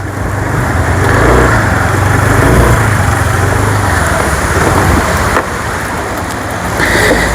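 Heavy, unbroken rain pours down outdoors on Thiruvonam day, a loud, steady wash of noise that fills every moment with a faint rumble underneath and no talking.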